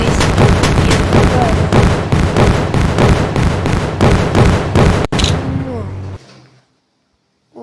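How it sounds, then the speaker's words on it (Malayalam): Firecrackers in the video game Indian Bike Driving 3D burst in a rapid, loud string of sharp cracks for about five seconds, then a last bang and a fading tail into near silence. "ഇന്നാ പടക്കം പൊട്ടിയ"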